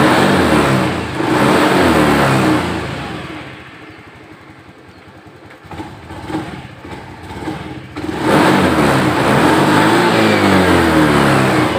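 A Honda Beat FI scooter with a blinking code-7 fault starts and revs loudly, its engine rising, dipping to a softer idle in the middle, then surging back strongly near by. No talking.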